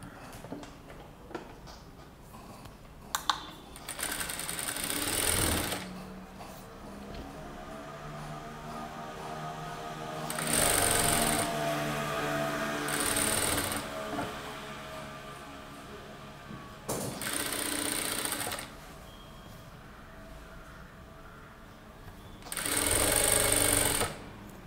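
A sewing machine stitches along the fused neckline edge of a fabric garment in several separate bursts of rapid mechanical whirring, close and clear, with quiet fabric handling between runs and no speech.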